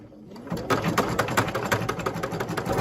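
An embroidery machine runs a zigzag stitch around a fabric appliqué in its hoop, a steady close mechanical whirring with rapid rhythmic needle ticks that continues without pause.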